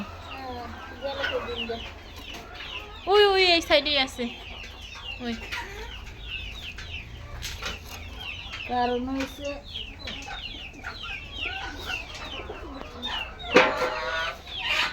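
Hens cluck and squawk around a nest box built for laying eggs, with repeated, close, irregular calls that rise in loud bursts while people talk nearby.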